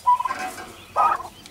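Domestic turkey hens, likely young birds without beards, giving two short gobbling calls close by, a brief call at the start and a louder burst about a second later, with no talk.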